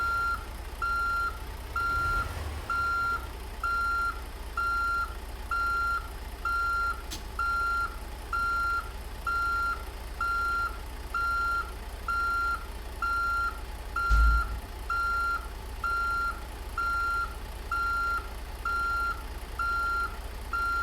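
Steady, evenly spaced reversing beeps from a truck in American Truck Simulator repeat throughout over a low engine rumble, with a single soft thump partway through.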